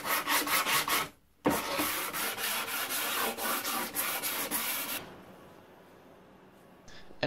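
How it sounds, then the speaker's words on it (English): Edges of a bamboo shelf are sanded by hand in quick, close, rhythmic rubbing strokes that pause briefly, resume, then stop and leave quiet room tone. "Some quick edge breaking."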